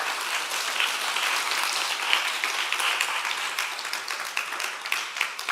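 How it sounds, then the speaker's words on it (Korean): Steady applause from a church seminar congregation fills the room, dense and continuous for several seconds with no voices over it. "박수"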